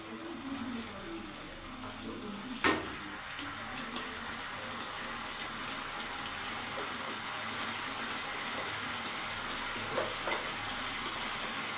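Oil in a pan sizzles faintly and steadily while cooking a red lentil fritter curry, a soft continuous hiss with a sharp clink or tap near the start.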